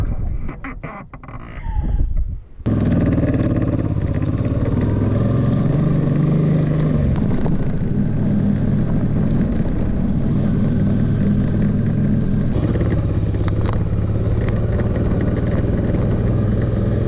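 A motorcycle on a long-distance ride through Tajikistan produces a loud, steady engine drone with wind rush, after a brief rustling start, continuing without break.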